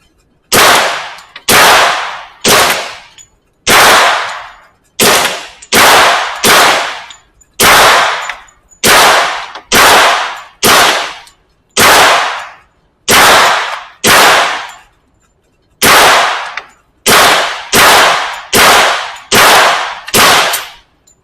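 An airsoft gas blowback gun fires a long string of loud, sharp reports, close by and alone, roughly one shot per second with a few short pauses between groups.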